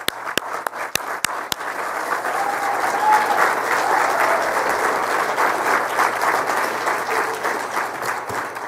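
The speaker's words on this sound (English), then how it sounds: "Would you all please stand for and observe and give an applause to all of them" Awards ceremony audience at a tile and stone industry event applauds past award winners, starting with a few sharp separate claps that swell into steady, sustained crowd applause filling the room for several seconds.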